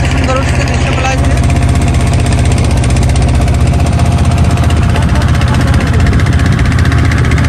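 Loud, steady engine drone of a river boat ferrying people across a river, a continuous throbbing hum running unbroken through the whole stretch, with a voice talking over it.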